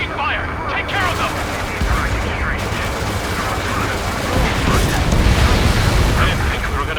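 Gunfire and explosions in the Ace Combat 7 flight-combat game, a dense continuous barrage of rapid shots and booming blasts layered loudly with engine roar, voices talking over the action.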